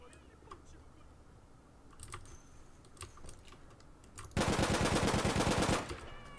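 Rapid SMG fire from the video game APB Reloaded, a dense automatic burst of about one and a half seconds that stands out loud over quieter game ambience and scattered clicks.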